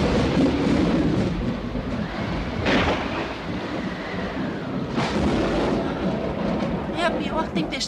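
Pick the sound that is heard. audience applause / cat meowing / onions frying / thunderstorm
thunderstorm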